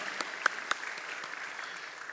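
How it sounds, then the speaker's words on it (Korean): Sparse, faint applause from a church congregation during a Sunday worship service, thin scattered claps with a couple of sharper individual hits standing out over a soft background. "하나님께 영광의 박수 올려드립니다"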